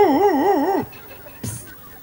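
A man imitates a big Alsatian dog with his voice, a loud wavering howl-like bark held for nearly a second, then a short gruff yelp follows after a pause.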